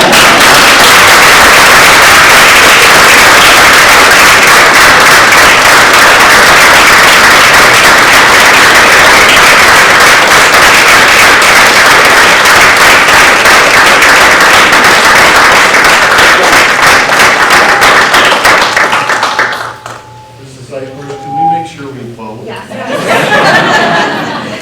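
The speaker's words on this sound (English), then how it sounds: "Can we clap?" A crowd at a school board of education meeting claps loudly and continuously for about twenty seconds, then the applause cuts off into quieter room noise and a few voices.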